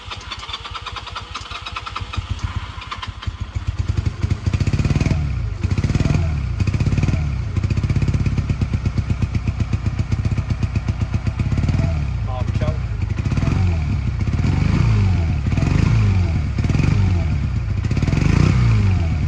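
A Honda CM125 twin-cylinder motorcycle engine cranks and catches with the choke on, then settles into a rough, pulsing idle with occasional revs. Someone talks over the engine at times.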